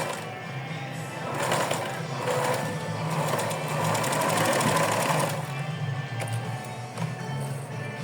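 A sewing machine runs stitching small doll clothes, a fast close mechanical whirring and needle chatter that rises into a loud run in the middle and eases off toward the end, with no talking.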